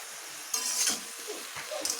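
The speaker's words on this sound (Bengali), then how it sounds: "লাউ শাকগুলোকে আমি এইভাবেই আর কিছুক্ষণ ভেজে নেব" Bottle gourd greens frying with turmeric in a little oil, heard as a soft sizzle under a few scraping stirs and faint utensil clinks at close range.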